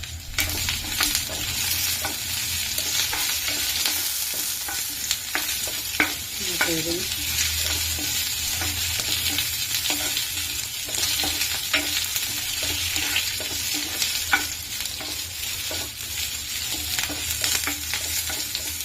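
Garlic and curry leaves fry in a pan for a peanut chutney, giving a steady close sizzle throughout, with frequent scrapes and taps of a spoon as the pan is stirred.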